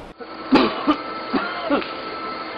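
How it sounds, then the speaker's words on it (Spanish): A person coughs several times in a row, four harsh, close bursts spaced about a third of a second apart, with nothing else around them. "tiene más de 2 semanas con esa tos."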